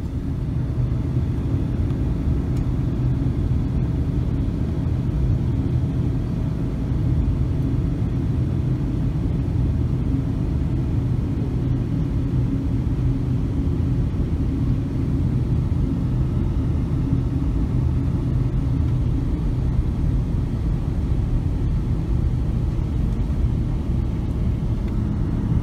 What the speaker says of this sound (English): our airplane is already started taxiing on the runway, and we're going to start getting in line with all the other airplanes to take off